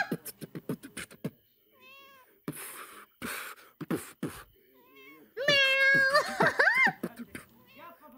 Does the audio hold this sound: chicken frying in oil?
no